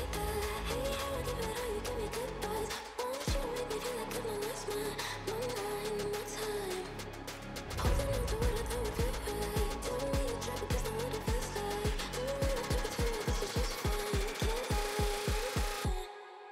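A future trap build-up thick with layered drums, loud and dense throughout, with rapid percussive hits that speed up into a tight roll near the end before cutting off.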